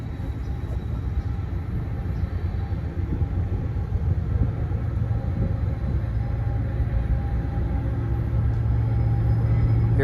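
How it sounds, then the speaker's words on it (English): A train rolls past, heard as a continuous low rumble that holds steady and slowly swells over about ten seconds, with no voices. "I do hear a train coming by"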